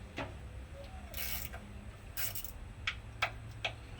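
A ratchet wrench loosens 7/16 or 11mm valve cover bolts on a 1970 Mustang Mach 1, with quiet mechanical ticking and a few rasping clicks over a low steady hum, and no talk.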